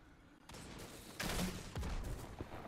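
Fusion rifle fire bursts out in a competitive Destiny 2 match, a couple of charged, crackling discharges over faint background game noise.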